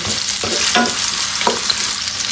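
Khichuri ingredients frying on low-medium heat as they are stirred toward brown, a close, steady sizzle broken by a few scraping stirs of a spoon in the pan.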